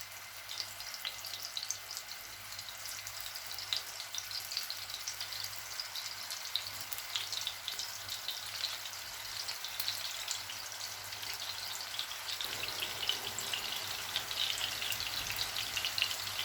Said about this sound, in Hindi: मैं कबाब तवे के ऊपर फ्राई कर रही हूँ।